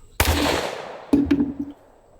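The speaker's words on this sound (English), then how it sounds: "Now, let's actually shoot the transformers." A gunshot fired at an electrical transformer cracks out sharply and loud, followed by a ringing decay, then a second burst of impact rattles and clanks about a second later.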